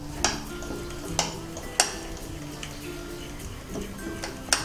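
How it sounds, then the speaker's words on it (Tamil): A spork beating eggless mug cake batter in a mug, a steady soft stirring scrape punctuated by four or five sharp clinks against the rim, close and alone. "ஒரு ஸ்போர்க் வச்சு நல்லா பீட் பண்ணிக்கணும்"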